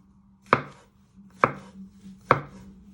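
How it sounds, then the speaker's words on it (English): A kitchen knife slicing vegetables on a cutting board for beef Wellington, three crisp evenly spaced chops close to the ear, alone with no talk and a faint low hum beneath. "You're first going to chop them in half and then you're going to finely slice them one way"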